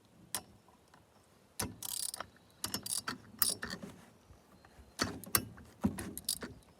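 A ratchet works the flywheel nut loose on a Poulan 306 chainsaw, sounding as short clicking bursts and metallic clatter at close range, in several separate spurts with quiet gaps between.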